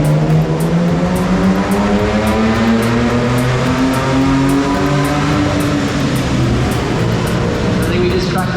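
A naturally aspirated car engine revving hard and continuously on a dyno at Summernats, pitch climbing steadily under load, loud and close with a droning exhaust and no pauses.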